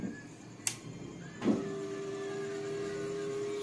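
Cooling blower fan inside a Peavey powered audio mixer gives a sharp click, then spins up with a soft thump into a steady, moderately loud whirring hum that continues alone.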